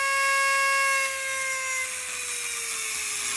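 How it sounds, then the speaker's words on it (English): A Dremel rotary tool cutting a metal chopper headlight mount, a loud, steady high-pitched whine with a sustained tone that dips slightly in pitch partway through as the bit bites into the metal. "I'm using a Dremel because a big grinder will heat it up a bit too much."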